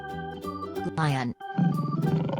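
A lion's roar from a children's animal sounds compilation: one short rough roar alone, followed by a growling rumble after a brief gap, set over soft background music.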